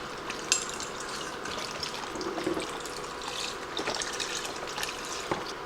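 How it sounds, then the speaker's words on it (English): Four cups of chicken broth pour into a soup pot, a soft continuous splashing trickle heard close and faint for several seconds. "So I've got 4 cups of chicken broth going in."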